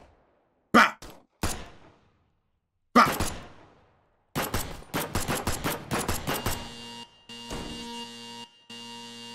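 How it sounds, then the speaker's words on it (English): Gunfire at a shooting range in the video game Point Click Killer: two sharp single shots with echoing tails, then a rapid rattling string of shots, followed by a steady electronic tone that cuts in and out. "Oh, I was supposed to keep shooting."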